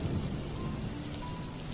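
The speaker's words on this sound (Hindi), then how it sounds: "बाहर बहुत तेज बारिश हो रही थी।" Heavy rain falls outside as a steady, dense wash of noise, horror-story ambience with no voices.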